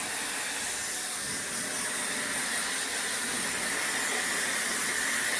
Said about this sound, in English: Make sure you're really getting your roots dry as the airwrap barrels don't really dry that as much.